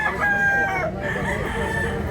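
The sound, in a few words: rooster crowing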